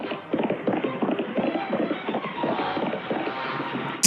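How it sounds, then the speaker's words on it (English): Clip-clop of horses pulling a cart in a 1956 Western, a steady busy patter of hooves with rolling rumble and wind, moderately loud throughout and without speech. "Man, those horses are pissed."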